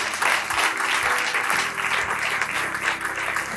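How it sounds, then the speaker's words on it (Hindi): Enthusiastic congregation applause during a Sunday church service, dense and steady throughout, with a voice faintly under it. "आइए जोरदार तालियां सुनाओ।"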